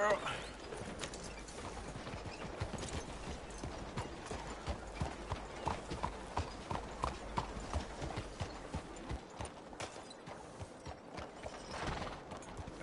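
Steady clip-clop of horse hooves walking at an even rhythm in Red Dead Redemption 2, with faint voices and ambient game sounds in the background.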